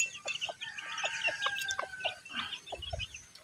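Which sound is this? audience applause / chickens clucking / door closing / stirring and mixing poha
chickens clucking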